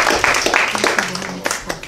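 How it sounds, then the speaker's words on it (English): Applause from a small gathering in a room, a dense wash of clapping that fills the short span at moderate loudness, with a voice overlapping briefly. "Let's give a round of applause."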